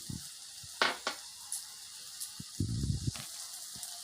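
Tomato-based elephant yam masala sautés in a clay kadai, a low, quiet sizzle under intermittent stirring scrapes and soft knocks of a spoon against the earthen pot.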